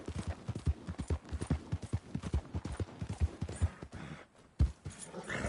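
Horse hooves clip-clop in a steady, fairly close rhythm of sharp repeated knocks, with a brief pause near the end before the hoofbeats resume.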